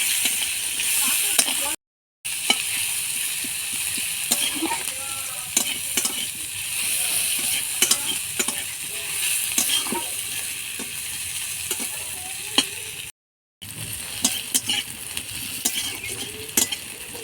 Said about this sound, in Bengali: ফোড়নটা ভাজা হয়ে গেছে, এবার পেঁয়াজগুলো দিয়ে দেবো। পেঁয়াজগুলো দিয়ে ভেজে নেবো।